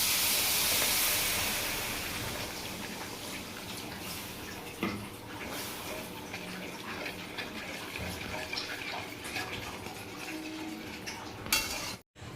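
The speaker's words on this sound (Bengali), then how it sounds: "এবার আমরা এর মধ্যে দিয়ে দেবো সামান্য পরিমাণে জল।" Water poured into sautéed spice paste in a pan for hilsa fish curry sets off a loud steaming hiss that fades into a softer, bubbling simmer, with a faint utensil clink near the end.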